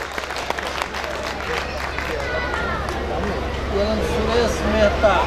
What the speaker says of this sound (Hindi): मैं चाहता हूं कि एक बार जोरदार तालियों के साथ माननीय मंत्री महोदय जी का